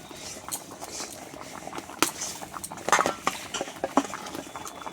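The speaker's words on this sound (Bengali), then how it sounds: "তারপরে ঝোলটা কিন্তু সুন্দর ফুটে গেছে" Curry broth with egg and paneer bubbles in a pot, giving a steady close bubbling and popping with scattered sharper pops and a few light clinks.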